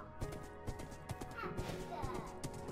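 A horse's hooves clop along in Minecraft, a steady rhythmic series of near, clear hoof beats, with a faint horse whinny and some game ambience mixed in.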